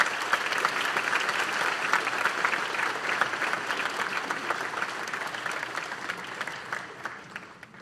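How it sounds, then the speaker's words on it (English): An audience at a high school National Honor Society induction ceremony gives the new inductees a round of applause, sustained and moderately loud, thinning gradually toward the end. "Could we give this group of inductees a round of applause"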